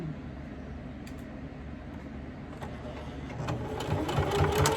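A sewing machine stitches fabric for a three-layer bustle wrap skirt, humming steadily at first and then speeding into a louder, rhythmic run of needle strokes near the end.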